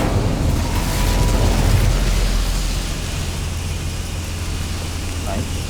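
A fire spell cast in the Hogwarts Legacy game bursts out as a loud, rumbling whoosh with a deep booming low end that fades slowly over several seconds, with a voice faintly present.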